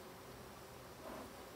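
Honey bees buzz steadily around an opened hive, a faint, continuous drone with a slight swell near the end and no voices.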